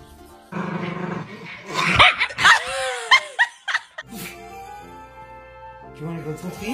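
A dog barks in a series of short, close, loud yaps mixed with growls, then quieter grumbling, with a person talking around it.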